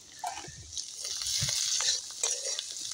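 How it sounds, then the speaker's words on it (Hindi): Potatoes stir-fried in a pan, a bright continuous sizzle with a few low spatula thumps and scrapes, close up and without talk. "चलिए अब इसको अच्छी प्रकार से भून लेना है"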